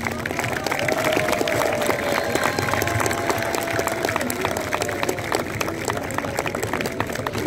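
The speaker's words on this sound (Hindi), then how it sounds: "तालियां इनके लिए।" Audience applause for a police cadets' unarmed combat and self-defence display at a police athletics meet, a steady dense clapping crowd sustained throughout, with some voices mixed in.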